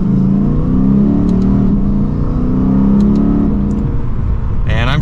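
A Lexus RC F Blue Fuji Speedway Edition accelerating from second gear, its engine note loud and close, droning and climbing steadily in pitch from inside the cabin before a brief higher whine near the end.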